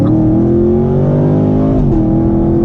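A 2018 Chevrolet Camaro SS engine revs hard, then a quick exhaust pop and drop in pitch at the upshift before pulling again, loud and close.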